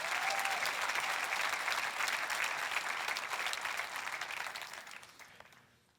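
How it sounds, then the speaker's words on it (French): Church congregation applauding during a sermon, a dense, steady clapping from a large crowd that holds strong before fading out toward the end. "applaudir pour tous ceux qui ont besoin d'encouragement"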